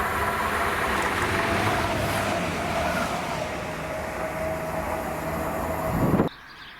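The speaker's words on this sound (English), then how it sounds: "Then this is 2L88, the 1904 ScotRail service to Dundee from Arbroath with" A ScotRail Class 170 unit, number 170-394, running the Arbroath to Dundee service passes at Monifeith with a loud sustained rumble and rail roar and a faint tonal whine, cutting off abruptly near the end.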